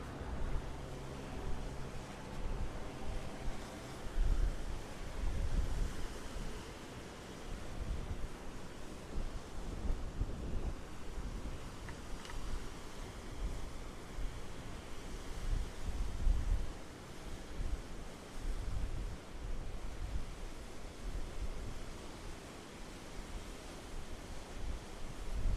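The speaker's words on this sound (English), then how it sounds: "Damn that wind" Steady wind roars and buffets the microphone on a Gold Coast beach in Queensland, with surf washing underneath in a continuous, close, rumbling wash and no voices.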